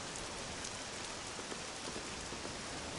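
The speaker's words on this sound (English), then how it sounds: "This accursed rain will chill ye to the bone." Rain falls steadily in the video game Quest for Glory, a dense, even patter with no breaks, quiet and unchanging throughout.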